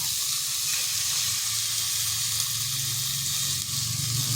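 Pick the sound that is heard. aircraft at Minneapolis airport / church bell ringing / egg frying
egg frying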